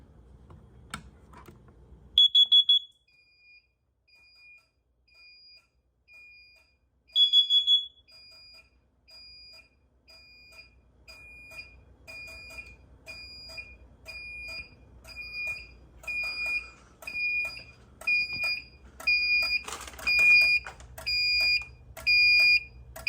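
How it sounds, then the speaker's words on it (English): A carbon monoxide detector tied into a fire alarm panel during a routine system test gives two short piercing electronic beeps, then settles into a steady repeating high-pitched alarm pattern alongside faint clicks and handling noise in a quiet room. "I'm going to set off our carbon monoxide,"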